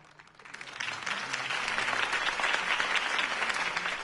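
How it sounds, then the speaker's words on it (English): Applause from a crowd after a mayoral campaign speech, swelling from a soft start into sustained, dense clapping with no talk over it. "could have heard that applause"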